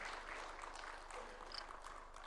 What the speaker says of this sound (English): Why don't we welcome him with a hearty and warm clap as he comes to address us.